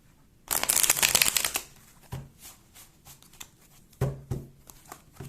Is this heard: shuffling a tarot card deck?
yes